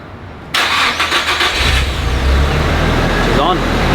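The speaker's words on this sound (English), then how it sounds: "So now we're good to start the car" A Nissan Silvia's engine cranks briefly, catches with a loud burst and settles into a steady, close idle that continues to the end.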